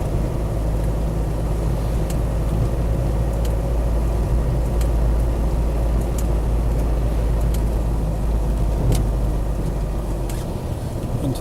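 A Land Rover Defender 90 pickup with the 300TDi diesel engine drives along, its low engine drone and road rumble steady and close, with occasional clicks and knocks from the cabin.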